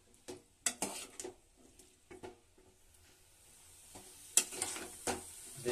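Drained papaya pieces cooking in sugar syrup in a pan for tutti frutti are stirred with a spoon, giving soft bubbling and a scattered series of scrapes and clinks against the metal, fairly quiet and close.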